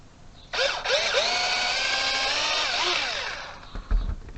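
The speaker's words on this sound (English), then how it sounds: "drill it out so that it goes through to the middle." A power drill boring through 3D-printed plastic for a homemade camera tripod, a close, loud whining motor pitch rising and wavering for about three seconds before spinning down, with a few handling knocks after.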